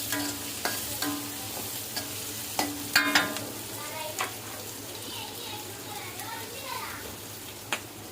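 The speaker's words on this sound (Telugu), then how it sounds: "ఎర్ర రంగు వచ్చే వరకు ఫ్రై చేసుకోవాలి. కొద్దిగా సాల్ట్ చిటికెడు వేస్తే కొద్దిగా ఆనియన్స్ త్వరగా వేగుతాయి" Onions with a pinch of salt frying in a pan for a mushroom masala curry, a steady soft sizzle running throughout with occasional sharp clicks and scrapes of stirring, close and moderately quiet.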